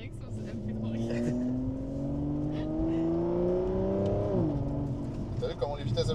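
A car in sport mode accelerates hard, its engine note climbing steadily in pitch before a gear shift drops it, loud and close with people talking over it.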